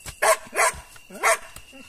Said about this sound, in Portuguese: E a cachorra pra não te morder, Gilson.